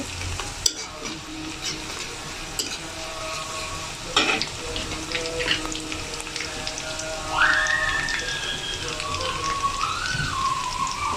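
Cumin seeds crackle and sizzle in hot oil for a pangas fish and potato bhuna curry, a continuous close frying hiss broken by a few sharp pops and brief utensil knocks.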